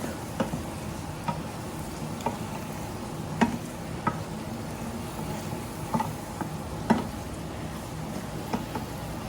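A mushroom mixture with onion and garlic sizzles steadily in an oiled pan, a continuous faint crackle broken every second or so by soft clicks of stirring.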